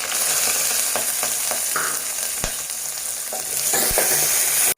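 Sliced onion and green chillies fry in a little oil, a loud, close, continuous sizzle broken by several sharp knocks and scrapes of stirring, ending abruptly.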